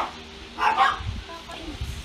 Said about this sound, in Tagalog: Nagwawala yung mga aso ko.